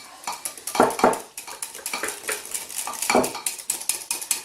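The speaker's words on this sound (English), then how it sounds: "we are going to put the egg mixture into the bechamel mixture, again beating the whole time to keep it from curdling" A whisk beats egg mixture into béchamel sauce in a pot, a steady run of quick metallic clinks and scrapes with rhythmic bursts, close and fairly loud, with no talking.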